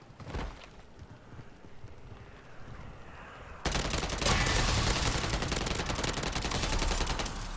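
Rapid automatic gunfire from a buffed weapon in MW3 Zombies, quieter scattered shots at first, then a loud continuous burst of fast fire through the second half.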